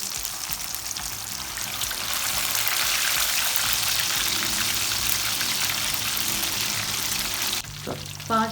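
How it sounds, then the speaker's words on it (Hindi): Fish pieces frying in hot oil for a Pakistani Lahori-style fish fry, a dense close sizzle and crackle holding steady before cutting off abruptly near the end. "5 मिनट हो गए हैं इसको फ्राई होते हुए।"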